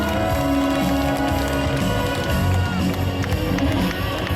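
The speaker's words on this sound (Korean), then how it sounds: "큰 박수로 받아주십시오." A crowd applauds at an outdoor rally calling to stop Japan's ocean dumping of radioactive wastewater, a dense, continuous wash of clapping and cheering that holds steady and loud throughout.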